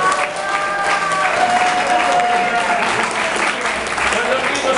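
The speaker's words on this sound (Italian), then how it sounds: "Benissimo, un applauso." Audience applause at a Christmas and New Year stage event, a dense steady wash of clapping lasting throughout, fairly close, with voices and murmurs mixed underneath.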